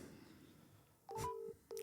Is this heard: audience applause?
no